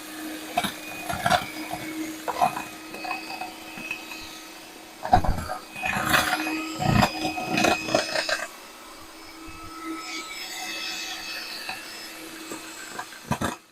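A small food processor crushing biscuits runs in uneven bursts of grinding, rattling whir, close and moderately loud, with brief pauses and shifts in pitch as the blade chops.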